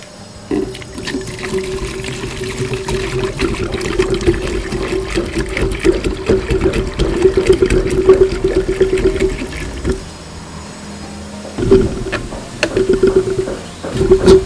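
About three liters of water pours steadily into a bucket for roughly ten seconds, loud and close, then stops briefly before a couple of shorter splashing pours resume near the end.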